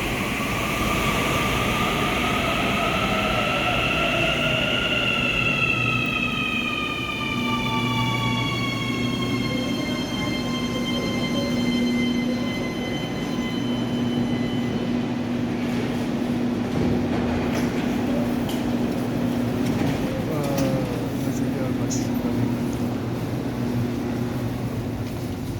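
A metro train pulls into a station, a loud rising and falling whine from its motors over a steady rumble, then the roar of the cars rolling by settles into a lower hum as it slows.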